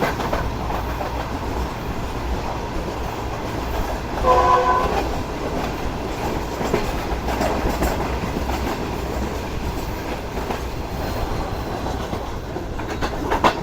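The Pak Business Express, a Pakistani passenger train, rolls along the rails with a steady, close rumble and rattle, and brief horn-like tones sound near the four-second mark.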